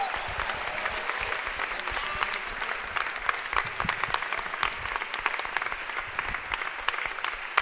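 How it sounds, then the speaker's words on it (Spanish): Sustained, dense applause from a church congregation at a Catholic Mass, steady and loud throughout with sharp individual claps standing out and a faint murmur of voices beneath. "Aplaudan todos al Señor."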